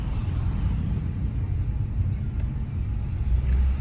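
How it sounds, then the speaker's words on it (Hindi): Road traffic on the way from Manali toward Solang Valley is heard from inside a vehicle as a steady low rumble of engines and tyres, continuous and moderately loud with no talk. "थोड़ा सा ट्रैफिक लगता हुआ"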